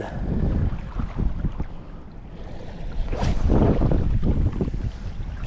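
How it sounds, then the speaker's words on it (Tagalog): Strong headwind blows across the microphone during shore fishing with a casting rod, in rough, rumbling gusts, rising and falling throughout, with no one speaking. "So, medyo mahangin ngayon. Pasalubong pa yung hangin."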